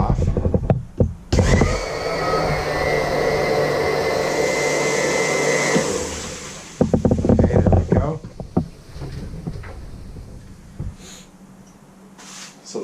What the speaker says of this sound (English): we are going to turn on the pump just like I did last night and suck in that vinegar